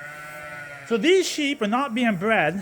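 Sheep in a barn on a sheep farm bleat loudly and close by in several wavering calls, following a person speaking.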